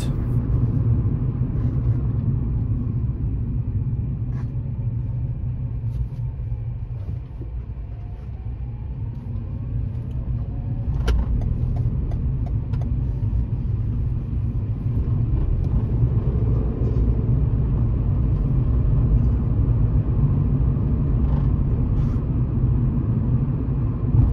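Steady low engine rumble inside a car driving on the road during a practical driving test route, continuous and fairly loud with faint intermittent clicks and no talk.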